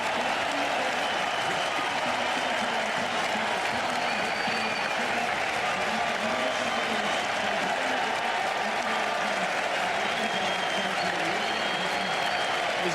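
A cricket crowd at the Gabba in Brisbane applauds a boundary during an Australia versus New Zealand Test, a dense, sustained roar of clapping and cheering that fills the whole stretch, with a voice faintly underneath.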